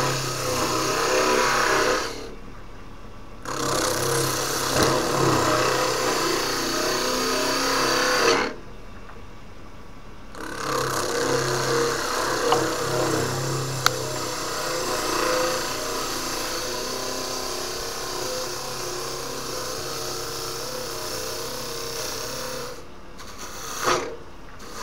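Woodturning a cherry bowl on a lathe, taking the bottom down: a sustained rough motor whir with scraping cutting noise, broken by several short pauses between cuts and a sharp tick partway through, close with no talk.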